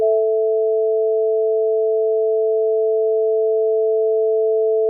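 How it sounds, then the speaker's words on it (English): Two pure sine tones sounding together, tuned slightly off a perfect fifth, held loud and perfectly steady for about five seconds with no other sound. "when it was slightly off of a perfect fifth, I could hear a little bit of a beating to the sound"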